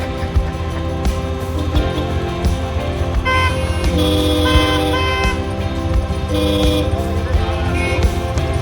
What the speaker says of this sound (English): I don't even have a horn on my bike.